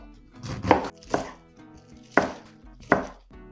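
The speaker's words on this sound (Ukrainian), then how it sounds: "Відріжу третю частину і наріжу невеликими шматками, так як на салат." Knife chopping Chinese cabbage into small salad-sized pieces on a board: four distinct, fairly close cuts spaced unevenly, each a crisp crunching thud, with no voices.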